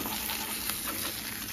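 Eggs fry in a pan with a soft, steady sizzle and faint crackles throughout, alone with no talk.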